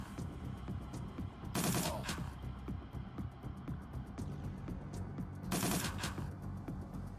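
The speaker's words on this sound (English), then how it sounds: "Blitz, start taking pot shots with this one" Gunfire from a Shadowrun: Dragonfall Director's Cut turn-based combat, with two bright bursts of shots standing out over a steady rumbling game soundtrack.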